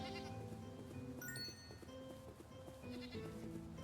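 Goat bleating in the video game Synaxarion, several short wavering bleats at modest volume over a soft, quiet background.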